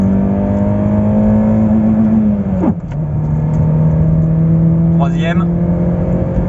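A Citroën Xsara S16 under full throttle in second gear, its engine note climbing steadily and loud from inside the cabin, then dipping briefly at a shift before pulling again, with someone talking over it.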